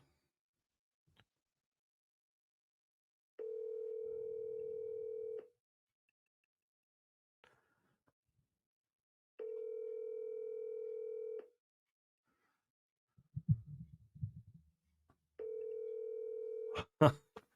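A phone ringback tone sounds while calling someone, with three evenly spaced two-second rings separated by silence. A brief burst of handling noise falls between the second and third rings, and a short sound at the very end.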